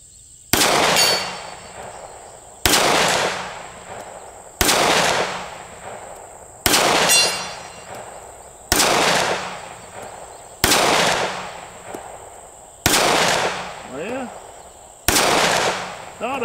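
Eight sharp, loud pistol shots from a Keltec P15 at a shooting range crack out at an even pace, roughly two seconds apart, each followed by a short fading echo.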